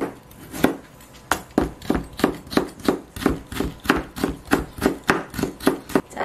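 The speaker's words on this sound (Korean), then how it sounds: "채를 썰어 주겠습니다." Knife chopping broccoli and carrot into thin strips on a cutting board, a steady run of crisp, evenly spaced close-up cuts.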